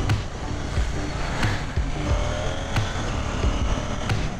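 A 2020 KTM Duke 790 A2 motorcycle is ridden on the road, its engine revving and shifting in quick repeated surges with sharp gear-change blips, up close under rushing wind noise.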